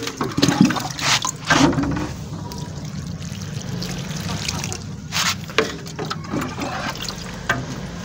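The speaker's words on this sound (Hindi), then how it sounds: "इसलिए हम पहली दफ़ा पानी इसको ज़्यादा ही देते हैं मिट्टी के अंदर" Water pours and splashes onto garden soil before seeds are sown, with irregular gushing bursts and trickling between them, fairly close and loud, and someone talking at times.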